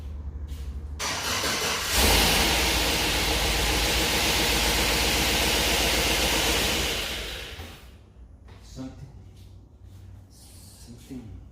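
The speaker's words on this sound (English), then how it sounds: "Let's crank one more time." A cammed Chevrolet Tahoe engine cranks and catches, loud and close: a short burst, then about five seconds of heavy roaring revving that settles into a lumpy idle, with voices talking briefly near the end.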